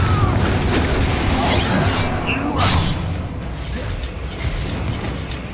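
Confringo fire spell blast from Hogwarts Legacy, a rumbling, crackling explosion with whooshing debris, loud and dense throughout.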